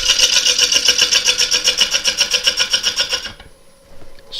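A wood lathe runs with a steady, loud, rhythmic rasping whir as a tool rides the spinning work, then cuts out near the end, leaving a quiet pause before the sound briefly returns.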